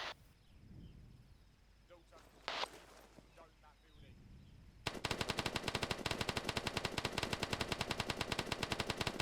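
Rapid automatic gunfire from a military fire team in training starts midway and rattles on in a dense, loud, steady stream, after quieter shouted commands and a few scattered noises.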